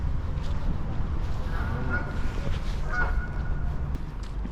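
Waterfowl on a Birmingham canal in cold November weather give a few faint honking calls over a constant low boat-engine rumble. The calls are distant and partly masked by the engine.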